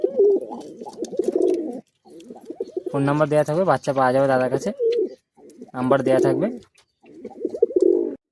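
A breeding pair of pigeons coos in a loft in Bagnan, deep rolling coos in two bursts between stretches of someone talking close by.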